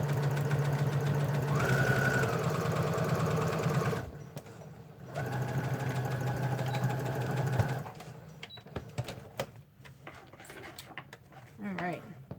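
A sewing machine runs steadily on a leather wallet insert with a tight 2.5 stitch length, in two bursts of about four and three seconds separated by a brief pause, then stops, leaving faint handling clicks and soft talk.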